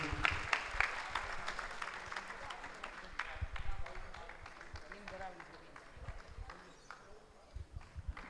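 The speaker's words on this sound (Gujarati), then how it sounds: "તો એકવાર જોરદાર તાળીઓથી વધાવી લઈએ" Crowd applause at a Chandrayaan-3 celebration in America as a guest speaker arrives to cut a cake; steady, fairly faint clapping with sharp individual claps, running under talk throughout.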